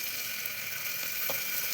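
Onions frying in oil in a pressure cooker give a steady, even sizzle throughout, with a couple of brief brighter crackles near the end and no talking.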